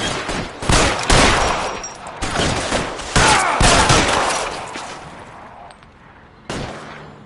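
Gunfight in L.A. Noire with loud overlapping gunshots in quick volleys, echoing and fading toward the end before one final shot.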